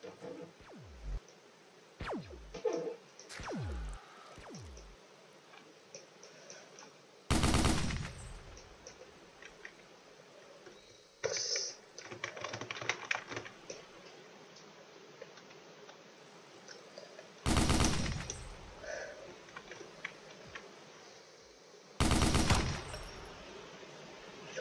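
Weapon fire in a zombie shooter game: three separate loud, sharp bursts spread widely apart, with faint clicks and quieter game sounds filling the gaps between them.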